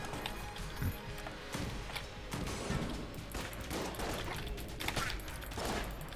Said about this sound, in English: Precious Winchester rifle aiming where I'm actually firing is wonderful.